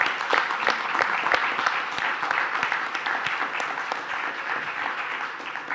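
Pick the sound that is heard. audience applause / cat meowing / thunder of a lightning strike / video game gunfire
audience applause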